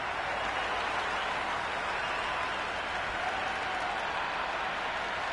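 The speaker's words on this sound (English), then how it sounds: "That's a hat-trick and the crowd are going wild." Crowd in an E-PSL cricket video game match, Multan Sultans versus Karachi Kings, cheering a hat-trick: a steady, loud wash of roaring and applause-like noise that holds at an even level throughout.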